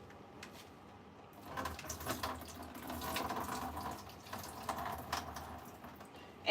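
Soaked raw cashews being drained, water splashing and trickling steadily from around the midpoint onward, with faint clicks and handling noises, no voices.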